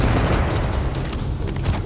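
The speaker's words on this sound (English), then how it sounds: "Dylan, shoot the red barrels." Continuous gunfire in Tom Clancy's The Division as shots are aimed at red barrels, a dense, loud, unbroken volley of rapid shots lasting the whole stretch.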